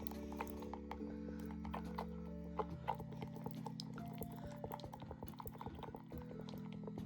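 Epoxy resin tinted with pigment is stirred with a stir stick for a Pokemon diorama lake, giving faint, irregular scraping ticks and soft liquid patter over a steady tonal background hum.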